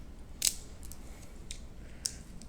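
A few quick, crisp snips of scissors sound close by against a quiet background, spaced irregularly.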